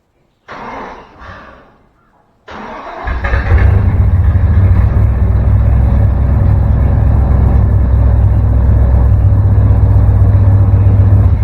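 Cranking briefly falters, then a 1957 Chevy engine catches and fires up, settling into a loud, deep, steady idle rumble that carries on alone at close range.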